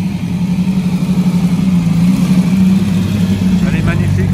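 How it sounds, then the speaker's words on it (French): A Lamborghini 350 GT engine hums steadily as the car passes at medium distance on a street, its low drone rising slightly, under a person talking. "Les amis, c'est une Lamborghini."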